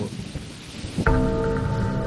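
Rain patters steadily in a storm, then a sudden close thunderclap cracks about halfway through and rolls on loudly with heavy rain beneath it, a sound effect in a spoken story.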